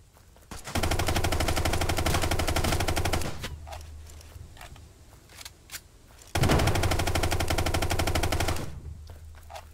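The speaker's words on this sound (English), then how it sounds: "I'm missing my shots." Automatic gunfire in a video game comes in two long, loud, rapid bursts, each held for a few seconds. Scattered single shots and softer game sounds fall in the quieter stretch between them.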